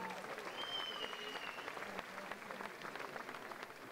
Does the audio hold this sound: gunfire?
no